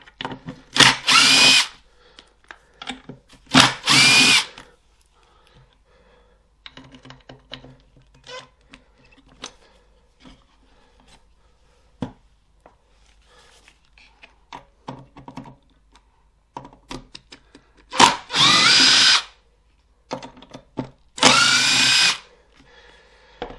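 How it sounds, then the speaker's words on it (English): A rattle gun loosens old screws on a Kirby G3 vacuum during restoration, with several loud, short bursts of impact rattling separated by quieter clicks and handling noises. "I decided to tack them with a rattle gun"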